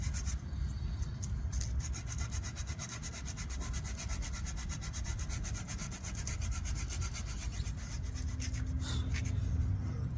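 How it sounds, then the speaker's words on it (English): Coarse 80 grit sandpaper rubs back and forth along a wooden walking stick to round its edges, a steady close scratchy rasp in rapid strokes that continues throughout. "Now we're going to start rounding it off to make it look a little bit more rounder like these guys. So 80 grit, sandpaper,"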